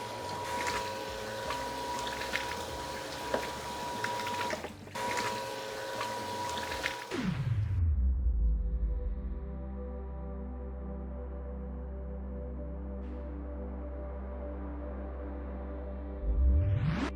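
A sewage grinder pump kicks on after about seven seconds and runs steadily with a loud, continuous low drone and hum, following a stretch of broadband mechanical noise and ending with a brief surge.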